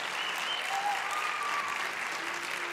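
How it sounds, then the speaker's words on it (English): Church congregation at a Sunday morning service applauds a baptism group, a continuous wash of many hands clapping, even and moderately loud across the whole stretch. "Let's give them an applause."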